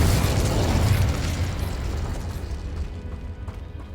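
In Hogwarts Legacy, a Confringo blasting spell goes off as a loud, close burst with a deep boom at the start. The explosion then trails into a rumbling, crackling decay that thins out over a few seconds.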